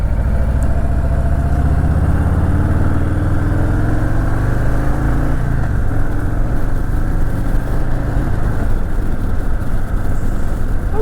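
A 2023 Anniversary Edition Harley-Davidson Fat Boy 114 motorcycle being ridden, its V-twin engine a loud, close, continuous low rumble that shifts pitch as the bike rolls along and the throttle changes.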